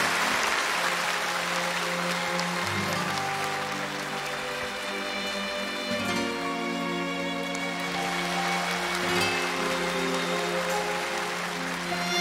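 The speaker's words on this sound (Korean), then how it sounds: "여러분 큰 박수로 맞이해 주시면 대단히 고맙겠습니다" A large crowd claps at a KBS outdoor music show on Jeju Island, steady dense applause that continues for several seconds, with some musical tones in the background.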